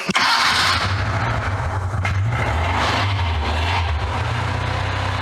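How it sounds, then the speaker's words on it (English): An old abandoned car engine, started cold on choke, catches with a quick crank and settles into a steady, smooth running hum close by, loud and continuous with no talking. "I forget what a silky smooth, lovely little engine this is"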